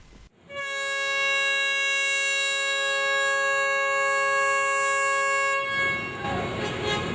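A loud train horn sounds one long sustained blast that starts abruptly and holds for about five seconds before fading into rumbling rail noise.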